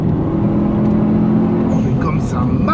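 Engine of a Subaru Forester STI pulling hard through the gears, a steady loud drone under the cabin with a voice talking over it.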